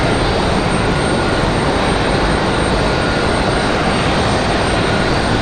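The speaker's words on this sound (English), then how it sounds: "Next arrival is going to be a Velo coming in from Fort Myers. This is 737 800" Avelo Boeing 737-800 arriving at Raleigh-Durham International from Fort Myers, a loud, unbroken jet engine roar with a high steady whine, close and continuous, no voices.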